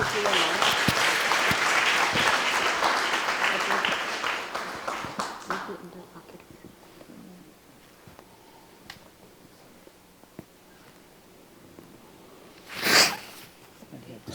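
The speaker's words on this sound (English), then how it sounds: "let's give another big round of applause" Audience applause welcoming Nobel Laureate Professor Aaron Ciechanover to a lecture at China Medical University: dense, loud clapping for about five seconds, thinning out and fading to a quiet hall with scattered claps and a brief noise burst later.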